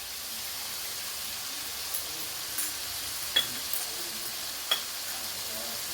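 Chicken pieces fry for a pulav in a pan with chili powder, giving off a continuous even sizzle with a couple of light, sharp clicks of a stirring utensil.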